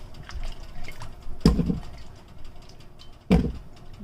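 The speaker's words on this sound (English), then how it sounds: "I'm gonna put water." Water is poured into a pot of cassava being boiled for fufu, two short splashing bursts separated by a quieter gap, close by with faint background noise.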